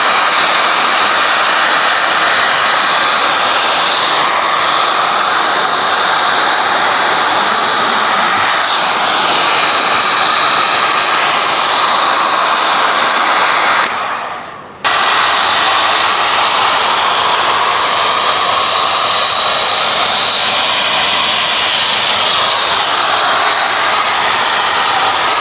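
Heat gun blowing hot air while vinyl wrap film is worked onto a car fender, a loud steady roaring hiss that briefly dips and cuts out midway before resuming, with no talk.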